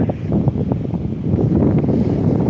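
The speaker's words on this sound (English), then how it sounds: "It is pretty windy, but it's a nice wind" Steady, loud warm wind buffeting the microphone, a continuous low roar with gusty rumbling and no voices, at Withernsea on the coast.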